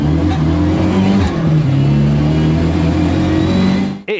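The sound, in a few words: Mk2 Ford Escort with Focus RS 2.3 EcoBoost engine accelerating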